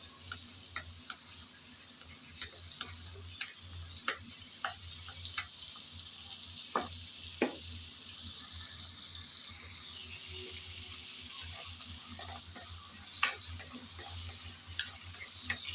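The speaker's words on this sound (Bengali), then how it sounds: "কিছুক্ষণ সময় নিয়ে চিংড়ি নেড়ে চেড়ে ভেজে নিলাম।" Prawns stirred and fried in oil give a faint, low sizzle with scattered sharp spatula taps against the pan, quiet and intermittent over a steady background hum.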